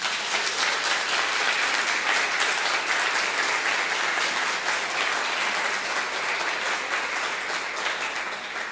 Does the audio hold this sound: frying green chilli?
no